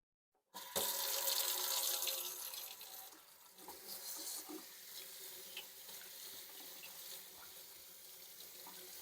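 Running tap water splashes steadily over a flat-cut corned beef being rinsed in a kitchen sink, a loud continuous gush that starts abruptly and carries on with slight shifts in flow, no talking.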